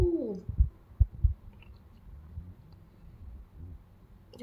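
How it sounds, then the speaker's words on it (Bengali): A white pigeon coos at a home in Dubai, a few low, soft throaty pulses clustered early on, then quieter murmuring rumbles with a calm indoor background. "আজকে সাদা পায়রাটা এসছে বলে তোমার সাথে শেয়ার করলাম"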